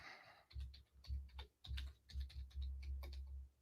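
Quick, irregular typing on a computer keyboard with sticky keys after a beer spill, clustered clicks and soft thumps close by, fairly quiet overall.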